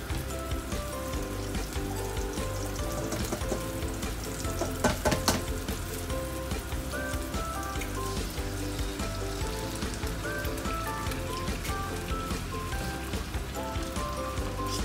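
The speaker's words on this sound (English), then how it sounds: "Stir the egg and push the noodle over." An egg fries in oil in a wok beside noodles, crackling and sizzling steadily up close while a utensil scrapes and stirs in irregular bursts.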